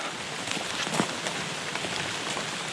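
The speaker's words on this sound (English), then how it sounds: "Got some rains today going on." Steady rain falls at a riverside park in Florida, a dense, even hiss of drops on surfaces that holds constant throughout with no voices.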